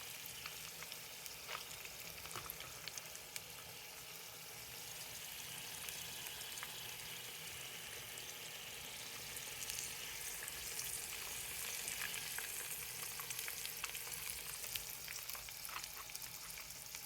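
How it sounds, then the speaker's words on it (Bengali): Pointed gourd and okra fry in oil that went in before it was hot, giving a steady close sizzle with scattered sharp crackles and occasional stirring for the whole stretch, and no one speaks. "এই যে পটল ভাজছি আর ঢেঁড়স ভাজছি"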